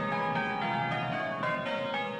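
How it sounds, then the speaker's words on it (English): A peal of bells on a floating barge on the River Thames rings steadily with overlapping, sustained tones, full and resonant throughout. "led by this barge of floating bells"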